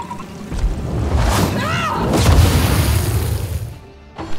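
A fire spell in the video game Divinity: Original Sin bursts with a deep boom and roaring whoosh that swells, sustains for a few seconds, then fades.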